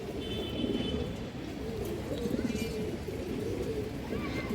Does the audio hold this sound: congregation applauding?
no